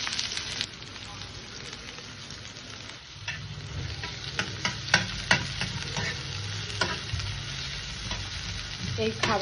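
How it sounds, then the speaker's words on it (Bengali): Onion frying in mustard oil for a hill-style mundi dish, with a steady, close sizzle running throughout and sharp stirring scrapes and clicks growing louder in the second half. "আমি এখন সরিষার তেলটা দিয়ে পেঁয়াজটা ব্রেস্তা করব"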